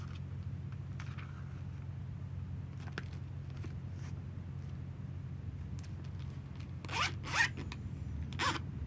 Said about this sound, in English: it's got a zipper